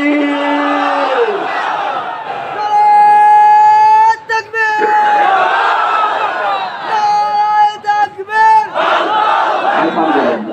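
A large crowd at an outdoor religious gathering roars a chanted reply in unison, several times over, with loud massed voices swelling and breaking off between calls.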